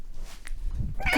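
A cat vocalises during the unboxing of an art supply crate, a brief plaintive cry rising near the end of a short stretch of quiet room noise.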